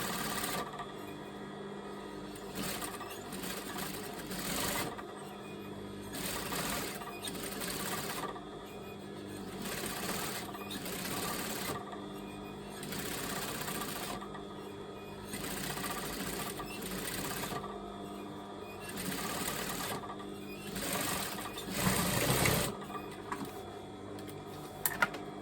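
Sewing machine double stitching a top, running in repeated close bursts of rapid mechanical whirring separated by short pauses, steady and fairly quiet throughout.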